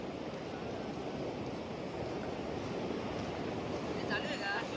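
Sea surf rolls steadily at a beach on the Konkan coast at Shrivardhan, a loud broadband wash blended with wind buffeting the microphone and no clear breaks between waves.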